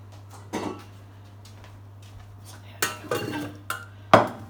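Pots and pans handled in a home kitchen while potatoes are set to boil: a few sharp metallic clanks and scrapes spaced over several seconds, close by, over a steady low hum.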